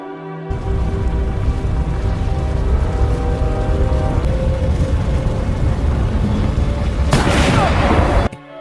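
Loud, dense burst of war-film gunfire and rumbling, sustained for several seconds, ending with a sharp noisy blast before cutting off.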